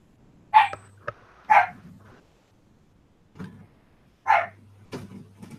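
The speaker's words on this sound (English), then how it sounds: "I don't know if you guys can hear my dog." A dog barks indoors in three sharp single barks spaced over several seconds, with fainter thumps and noises between them.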